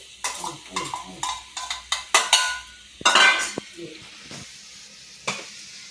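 Sago pearls tumble into a hot pan of oil and chilli paste for sabudana khichdi, producing a run of close, sharp stirring scrapes and clinks over a soft sizzle, with several louder strokes.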